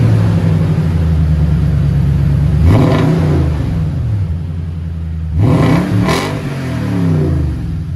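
A 2014 Toyota Tundra with a 5.7L V8 and a Dirty Deeds cat-back exhaust idles with a deep rumble, then revs twice in quick succession, each blip rising and falling back to a low, steady idle.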